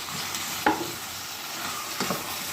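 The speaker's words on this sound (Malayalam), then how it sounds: "ഇനി നമുക്കിതിലേക്ക് നമ്മുടെ ചിക്കൻ മസാല കരട്ടി വെച്ച് ചിക്കൻ ചേർത്തെടുക്കാം" Chicken pieces stirred into a frying masala for a dhaba-style chicken curry, giving a steady sizzle with a couple of sharp scraping stir sounds, close and alone with no talk.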